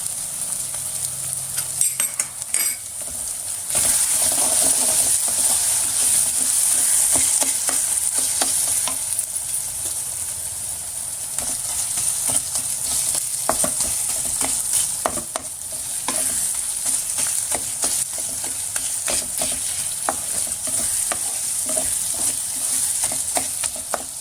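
Oats upma with turmeric is fried and stirred in a hot pan, making a loud, continuous sizzle with frequent scraping and clinking of the spoon against the metal throughout.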